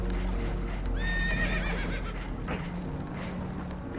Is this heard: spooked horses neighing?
yes